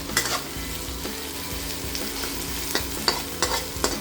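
Shrimp heads stir-fried in a pan give a steady close sizzle, with intermittent scraping and tossing knocks from the utensil over the continuous frying hiss.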